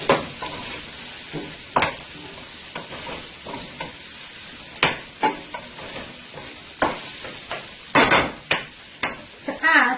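Garlic and brown cumin fry in oil with a bright, continuous sizzle, close up, and bursts of loud stirring and tossing scrapes come in clusters toward the end. Nobody talks.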